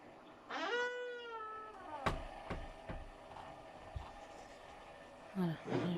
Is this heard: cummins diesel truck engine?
no